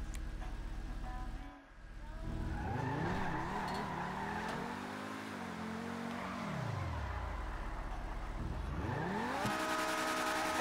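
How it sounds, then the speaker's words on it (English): A car drifting, with the engine revving up and down through gear changes while the tires squeal and skid in long sweeping tones, close and fairly loud after a brief dip. "I see sick drift with my double clutching skill."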